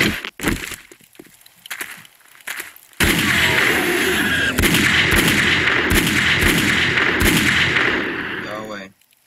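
Video game gunfire blasts in a sustained, loud burst of rapid shots after a few scattered cracks, with a person speaking over the opening moments.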